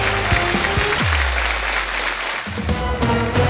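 A studio audience on a game show applauds, with a broad wash of clapping running steadily under swelling music and stingers, loud and continuous.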